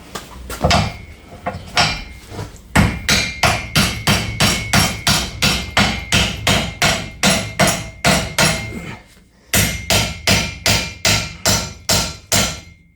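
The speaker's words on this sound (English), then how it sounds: "Hammer." Heavy hammer blows striking Ford Super Duty driveshaft parts while replacing U-joints and the pinion yoke: a steady run of loud, sharp metallic whacks about twice per second, briefly pausing then resuming at the same pace.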